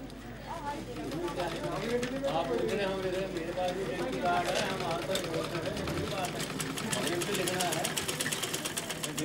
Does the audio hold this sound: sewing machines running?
yes